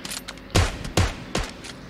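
Gunfire in PUBG Mobile Lite: three loud, punchy shots or short bursts spaced roughly half a second apart, close and dominant, with a softer rattling tail after each.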